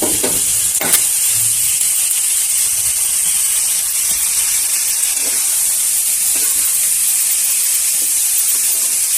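Pieces of elephant foot yam dropped into a hot oiled pan, giving a loud, steady sizzle close by, with a few soft thuds as they land at the start.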